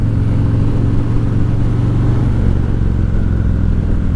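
Harley-Davidson motorcycle leaning through a curve under light front braking, its V-twin engine a steady, loud, close low rumble that holds even from start to finish.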